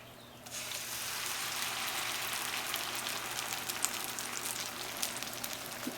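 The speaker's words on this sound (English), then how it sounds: "I'm going to go ahead and add this mixture into our frying pan." Rice cake batter hits a hot frying pan and bursts into a steady, crackling sizzle that continues evenly, with small pops scattered throughout.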